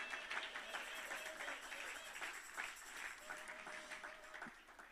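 Steady applause from a church congregation, sustained clapping throughout with some voices mixed in underneath.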